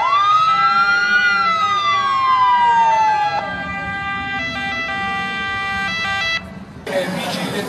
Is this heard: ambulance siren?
yes